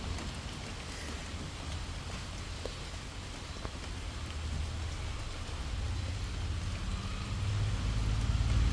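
Heavy rain pours down in a dense, steady hiss, growing slightly louder toward the end, with no voices.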